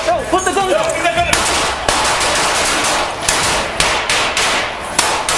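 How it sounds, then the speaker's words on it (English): Rapid bursts of gunfire between police and an armed suspect in a store stairwell, a dense volley of sharp cracks rattling off in quick succession over several seconds, with shouting voices at the start. "the suspect suddenly pulled a gun and opened fire, plunging the scene into chaos. Police fired 23 rounds, while the suspect returned 3 shots"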